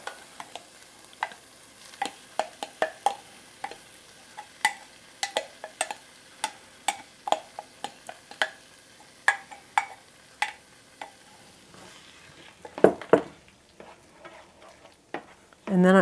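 Three cups of pumpkin go into a pot for dairy-free pumpkin soup and get stirred, with a string of sharp spoon clicks and scrapes against the pot, then a brief louder clatter near the end.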